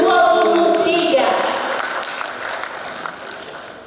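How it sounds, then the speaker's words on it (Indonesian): Audience applause for graduates of Yayasan Siswa Amang Bekso at a 2023 graduation ceremony, loud at first over a sustained tone, then thinning and fading over several seconds. "kita beri tepuk tangan yang meriah untuk wisudawan Yayasan Siswa Amang Bekso tahun"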